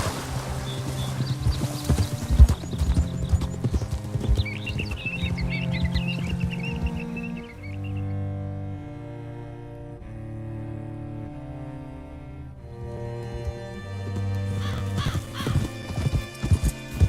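Horse hooves clip-clop steadily in Red Dead Redemption 2, with a brief neigh early on, as the horse trots in the first half and again near the end under orchestral game music.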